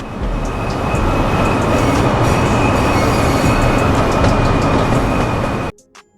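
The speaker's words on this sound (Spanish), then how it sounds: "nos encontramos ya a bordo de este tren" Amtrak Acela train in Train Sim World 4, a loud steady onboard rumble of rolling wheels and motors with faint clicks, continuous for nearly six seconds before cutting off abruptly.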